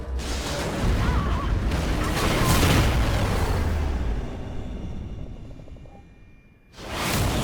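A space station blows up in the video game Call of Duty Ghosts: a deep, rumbling explosive roar builds and sustains for several seconds, fades into debris rumble, then a fresh burst of noise erupts at the end.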